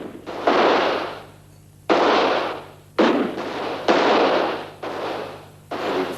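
Shotguns fired at a shooting party outdoors, five or six loud, close blasts spaced about a second apart, each trailing off in a long echo, no speech over them.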